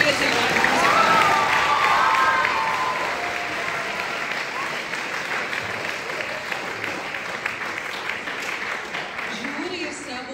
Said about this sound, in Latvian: skaļi aplausums par izturību un par šo skaisto piedzīvojumu